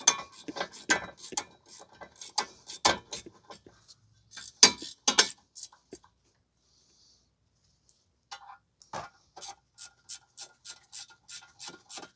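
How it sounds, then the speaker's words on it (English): A hand ratchet tightens front brake bolts on a 2012 Ford Fusion 2.5, with bursts of quick, crisp clicking strokes close by, a pause of near silence, then a steadier run of evenly spaced clicks. "So we are going to tighten up the bolts."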